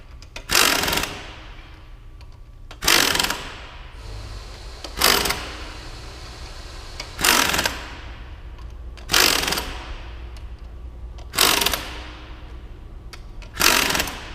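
Socket wrench working bolts to jack a bearing carrier off the shaft of a DX dynamometer: seven evenly spaced bursts of ratcheting, roughly every two seconds, each close and clear over a low mechanical hum, with no talking.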